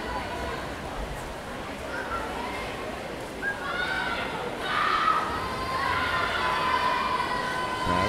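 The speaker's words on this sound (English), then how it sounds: "Crowd still cheering them on." A crowd cheers at a high school swim meet in an echoing pool hall, with a broad wash of voices, shouts and shrill whistles that swells midway and stays loud, alongside some talk.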